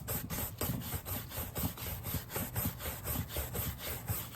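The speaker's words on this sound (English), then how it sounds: "the last step is just brushing and then polishing. So I just use this horsehair" Horsehair brush sweeping over a vintage leather handbag during polishing, quick rhythmic back-and-forth strokes about four per second, close and steady with no talking.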